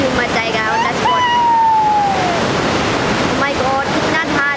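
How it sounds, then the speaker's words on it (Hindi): A powerful waterfall sends rushing water down in a loud, continuous roar. Excited voices can be heard over the torrent. "माय गॉड कितना धार है, कितना ना झरना।"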